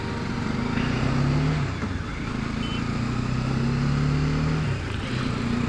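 A motor vehicle engine drones past on a Jaipur road, held as a steady tone that rises and falls twice amid constant traffic rumble.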